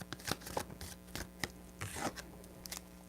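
Tarot cards being shuffled by hand, a quiet run of soft riffling slaps and brushes in irregular bursts, close and alone with no talk.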